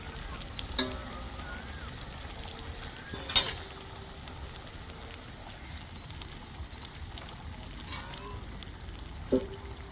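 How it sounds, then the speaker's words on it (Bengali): Chicken pieces frying in a pan with half-cooked spice masala for chicken kosha, giving a steady low sizzle and crackle throughout, with a few sharp stir clatters standing out. "এখনই দেওয়া হলো চিকেনটা মশলাটা আধা কষানোর পর।"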